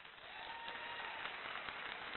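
Men in a comedy show audience clapping, a faint, steady spread of applause heard from a distance with no voices over it.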